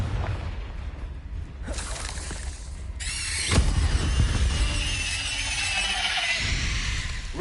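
A Confringo blasting spell goes off in Hogwarts Legacy as a loud magical burst with a sharp boom partway through, followed by a rushing, crackling tail and squealing effects over a low rumbling game background.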